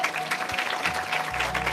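A short burst of applause comes from a congregation during a church service, a soft, even patter of many hands clapping. It sounds somewhat distant and low, with a faint hum underneath.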